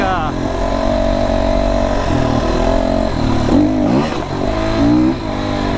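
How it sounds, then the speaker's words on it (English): An FSE300R motorcycle engine revving under throttle, a loud, continuous mid-pitched drone whose pitch rises and falls with each twist, with someone talking over it throughout. "when you twist the throttle, the power's there, and it's nice. It's just very torquey engine."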